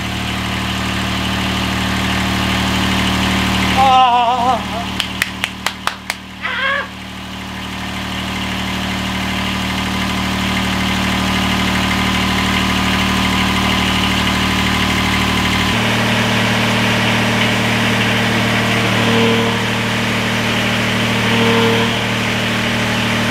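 Engine of a Toro Greensmaster 3250 greens mower running steadily at idle, loud and close, with a few sharp clicks early on and a slight shift in tone partway through; nobody speaks.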